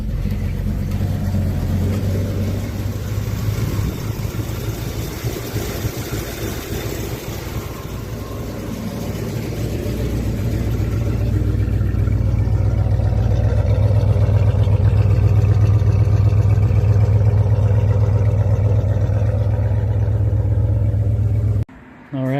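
A 1972 Plymouth Roadrunner engine idles after a cold start, a loud close low rumble that eases slightly, then swells into a fuller, steadier drone before cutting off abruptly at the end.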